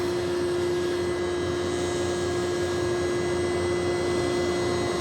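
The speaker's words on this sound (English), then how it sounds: "So now I can just open the ball valve." Refrigerant gas rushes through an opened ball valve on chiller charging hoses, a loud continuous hiss with a strong steady tonal whine throughout, unbroken for several seconds.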